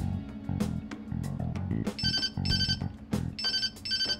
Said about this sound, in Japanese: 電話鳴らしましょう。